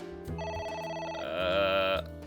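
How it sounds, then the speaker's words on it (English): A telephone rings in the video game AI: The Somnium Files, a repeating electronic ringtone with steady tonal bursts that swell louder near the end, heard alone without speech. "A phone. Should I pick it up?"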